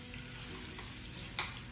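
Potatoes fry in hot cooking oil with a steady, close sizzling crackle and a brief sharper pop near the end, no voices.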